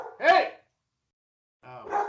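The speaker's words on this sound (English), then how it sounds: "I got the dogs barking" A dog barks twice, a loud close yelp followed after a pause by a shorter bark, with nothing else heard.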